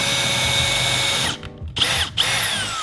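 Power drill boring through a plastic fishing kayak hull, a loud steady whine for over a second before cutting out, then two short bursts of drilling with brief pauses between.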